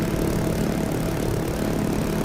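MD500 helicopter engine and rotor in a flight simulator game, a loud, constant droning whine with a steady low throb, continuous and close with no talking.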